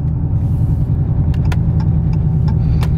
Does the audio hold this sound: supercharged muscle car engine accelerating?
yes